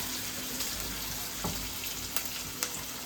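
Onion, coriander and curry leaves frying in a pan for chana masala, a steady even sizzle close by with a few faint clicks and stirring taps.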